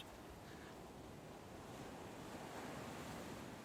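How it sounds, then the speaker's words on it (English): Ocean waves breaking in a steady, wind-buffeted rush of surf, constant and fairly faint, with no voices. "stand here watching these waves"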